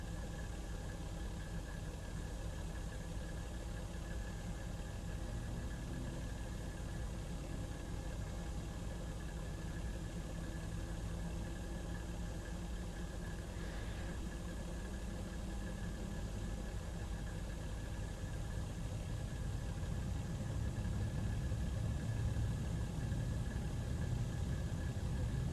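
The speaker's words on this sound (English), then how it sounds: "Alright, engine number 1. Starting engine 1." Engine 1 of a Jardesign Airbus A330 in the X-Plane 11 flight simulator spooling up, a steady droning hum with a faint whine that builds slowly and grows a little louder near the end, with no talking.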